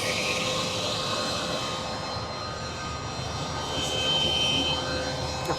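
A Fendt 1050 tractor on a large Brazilian grain farm, its engine giving a steady, loud, broadband roar with a high whine on top that holds at an even level throughout, no voices.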